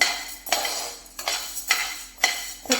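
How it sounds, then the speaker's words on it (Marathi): A spatula scrapes sorghum grains roasting in a pan over low flame, producing five rhythmic rasping strokes about half a second apart, close and dry with a faint background hiss. "लो फ्लेमवरती कंटिन्यू हलवत राहायचं आहे ज्वारीला"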